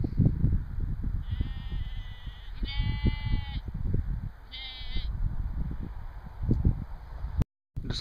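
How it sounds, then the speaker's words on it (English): A black sheep bleats in a field near Inverness, two or three wavering calls at mid distance over steady wind noise and rustling. "There's the Tolkien black sheep."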